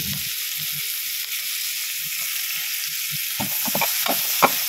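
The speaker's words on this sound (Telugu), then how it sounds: "ఆనియన్స్ వేస్తున్నాను ఇప్పుడు." Onions sizzling as they fry in butter, a steady hiss from start to finish with a few soft stirring knocks and slightly louder pops near the end.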